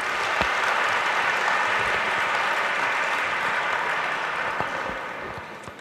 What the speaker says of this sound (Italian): Anche qui un applauso.